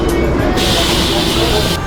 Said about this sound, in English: So that's the train.